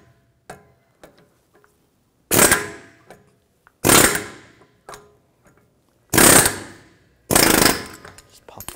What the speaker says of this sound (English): I'm just using an air hammer just to push this the rest of the way.